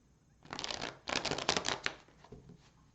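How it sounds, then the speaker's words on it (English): A tarot deck is riffle-shuffled in two quick bursts of crisp, fluttering card slaps, close and quiet with no talk. "I've already shuffled this deck for you. Just going to give it, say, 2 more hard and 2 soft."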